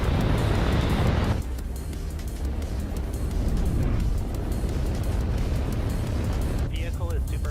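A rocket launches in Kerbal Space Program with a loud, deep rumbling roar that starts as a bright blast and settles into steady low thunder, under radio-style talk.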